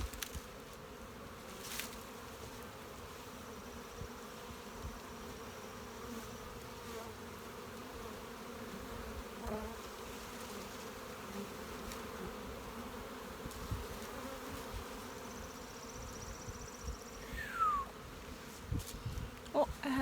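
Honeybees drone continuously around a beehive, a steady close buzz with occasional brief louder passes near the end and no clear talk.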